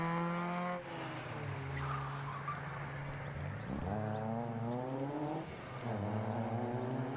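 The 748 rally car is driven hard along a stage of the Hermitage rally, its engine note climbing and dropping through repeated gear changes and revving, heard fairly near with faint tire noise.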